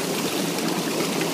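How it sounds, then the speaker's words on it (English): Synergizer pre-spray hisses steadily onto wet carpet during a Morantz Z-97 Super System cleaning job, a continuous close spray with no pauses and no voices. "So this is our Synergizer pre-spray."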